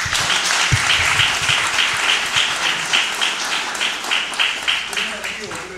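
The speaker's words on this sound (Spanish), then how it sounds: "Recibimos con un fuerte aplauso y sin más preámbulo al señor Marino Zapete." A conference audience in Puerto Plata gives strong, steady applause to welcome a speaker, dense crowd clapping throughout with a few louder claps standing out near the start.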